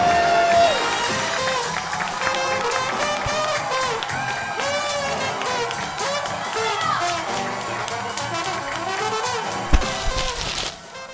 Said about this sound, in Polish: Dajcie jej wielkie brawa